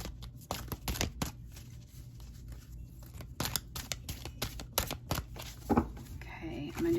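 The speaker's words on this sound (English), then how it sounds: "I'm gonna do one more shuffle." A tarot deck is shuffled close up in bursts of quick riffling and slapping card sounds, with a soft voice talking between the shuffles.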